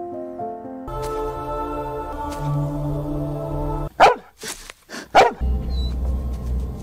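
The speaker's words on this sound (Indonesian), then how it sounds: "dia pun dikejutkan oleh seekor anjing yang menggonggong" A dog barks a few sharp times close by over a quiet background, the barks clustered together near the middle and end of the clip.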